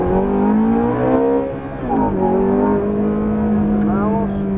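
A Ferrari F430 pulls away on a race track, its engine note rising in loud, strong harmonic sweeps as it accelerates through the gears, with a brief dip in the middle, heard from close by inside the car.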